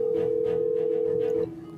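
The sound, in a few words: phone ringback tone, call unanswered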